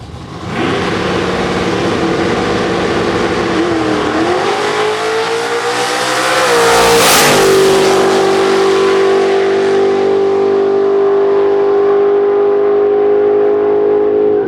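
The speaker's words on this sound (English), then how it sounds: "running with a Pro E85 today, 1968 Chevrolet Camaro RX model" A 1968 Chevrolet Camaro RX drag car running on Pro E85 at a nitrous outlaw street car race, loud and near, its engine revving up and then roaring at a sustained high pitch as it accelerates.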